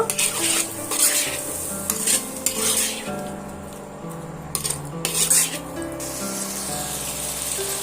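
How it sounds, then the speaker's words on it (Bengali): Fried potatoes stir-fried with spices in a pan, a spatula scraping and clinking against the metal over a steady sizzle, close and loud, in repeated strokes with no talking. "আবারও আমি আলুর সঙ্গে সমস্ত মশলা এইভাবে কষিয়ে নেব"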